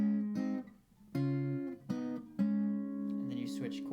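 An acoustic guitar plays the opening part of a song, with sustained plucked and strummed chords ringing out in a slow, even pattern, clear and close.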